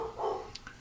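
Dogs barking in the background of a podcast recording, a single muffled bark followed by faint yips, distant and quiet.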